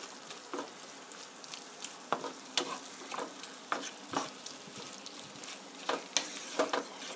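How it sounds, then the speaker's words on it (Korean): Onion and green onion being stir-fried for black bean sauce in a pan, with a soft sizzle under irregular scraping strokes of a spatula, close and fairly quiet, with no talking. "이렇게 해서 잘 섞이도록 볶아주시고요"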